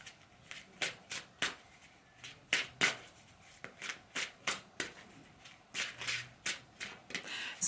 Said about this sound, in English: It's funny, as I'm shuffling,